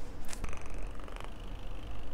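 A cat purring close up in a Toronto rental, a soft steady low rumble with a couple of faint rustles and clicks, no voices.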